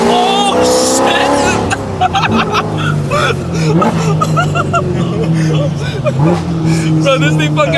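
A tuned Nissan GT-R accelerates hard, its engine note loud and close and climbing through rising sweeps as it pulls, with voices talking over it inside the car.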